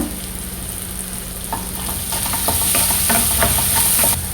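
Raw banana curry with fennel seeds and cashews sautéing in a pan, a loud steady sizzle with scattered stirring scrapes, close and with no talk.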